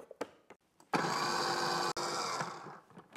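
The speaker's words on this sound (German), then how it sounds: "Zuerst gebe ich meinen Knoblauch in den Foodprozessor und jetzt mixen wir das alles erstmal, bis es schön glatt ist." A food processor purees garlic in one loud, continuous whirring burst of about a second, broken by a brief dip, then settles back and winds down, with clicks and handling noises before and after.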